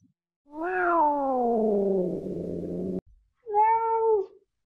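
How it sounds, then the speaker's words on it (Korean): An AI-generated cat meow sound effect: two distinct meows, the first long and drawn-out with a falling pitch, then a short pause and a second briefer, steadier meow, close and clear with no other sound. "예를 들어 고양이 우는 소리라고 작성하면 그에 맞는 사운드를 바로 만들어줍니다."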